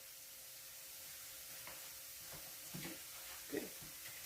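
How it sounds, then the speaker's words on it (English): Breakfast sausage and vegetables fry in a pan and are given a brief stir, giving a quiet, constant sizzle with a few soft scraping stir strokes near the end. "So I take the lid off of it and I stir it just a little bit and let it sit again"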